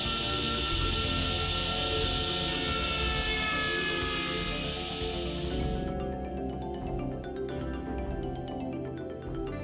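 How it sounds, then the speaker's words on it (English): A Copemaster saw blade cuts a straight line through a wooden baseboard, a loud steady high-pitched whine that drops away partway through to a lower running hum. "move the blade side to side to finish the straight cut on your baseboard"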